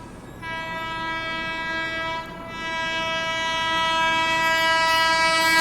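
A Rajdhani Express overtakes on the adjacent track and sounds a long, loud, sustained multi-tone horn that briefly dips before swelling again, with the rumble of rolling rail cars underneath.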